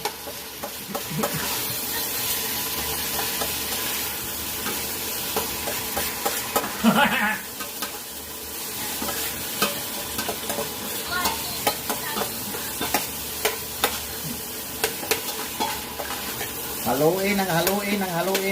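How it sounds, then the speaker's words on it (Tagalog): Squid fries in a pan with a bright continuous sizzle and hiss, broken by clattering stir strokes and occasional louder bursts, heard up close with a voice faintly present now and then. "Ilagay natin yung pusit."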